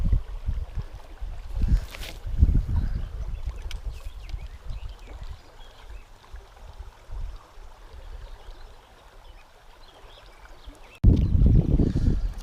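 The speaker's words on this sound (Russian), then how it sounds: "Бурный поток такой здесь." A rushing stream current flows steadily around a small PVC inflatable boat, a BoatMaster BM250, with a low, continuous watery wash and occasional louder surges and splashes close by.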